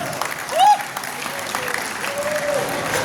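Applause from an audience at an anniversary celebration and halal bihalal gathering, a steady patter of clapping throughout with a brief tonal flourish early on and some voices mixed in.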